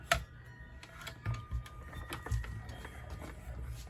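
Card is cranked through a manual die-cutting machine, giving a close series of soft clicks and mechanical ticks with a rumbling grind underneath, fairly quiet and without talk.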